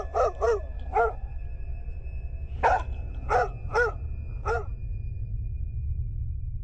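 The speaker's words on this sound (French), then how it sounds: "l'un de mes chiens grogne et l'autre commence à aboyer." Two dogs inside a house at night, one growling and the other barking, giving several short bursts of barks in two clusters, fairly close and clear, with no talking.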